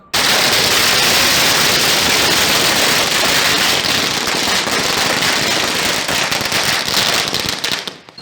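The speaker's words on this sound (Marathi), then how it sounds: "नारंगावमध्ये फटाके फोडून जल्लोष करण्यात आला" A dense, loud string of firecrackers bursts in rapid crackling succession for several seconds, then cuts off abruptly, set off in celebration in Narayangaon.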